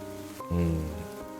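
Steady rain falls in the Ender Lilies video game, a soft hiss of drops running under sustained, tonal game music. It swells briefly partway through.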